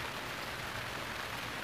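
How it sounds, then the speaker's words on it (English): Heavy rain in a cartoon, a dense, even hiss of downpour heard alone and fairly quiet for under two seconds. "Look how hard it's raining!"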